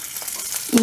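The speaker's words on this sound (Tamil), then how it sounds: "அப்புறம் பூண்டு போட்டுக்கலாம்" Garlic dropped into hot oil with cloves and fennel seeds for mutton keema, giving a short soft sizzle that swells louder near the end, close by.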